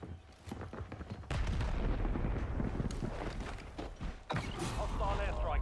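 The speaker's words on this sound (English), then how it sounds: "Grenade!" A grenade goes off in a Call of Duty Blackout match, a loud close blast with rumbling debris and mechanical clatter, followed by further bursts of battle noise and gunfire.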